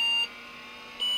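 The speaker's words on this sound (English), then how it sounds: "That's a nice beep." A steady high-pitched electronic beep as a vintage computer with Seagate ST-225 20MB MFM hard drives starts up; it sounds at the start, pauses for most of a second, then sounds again, over a faint hum.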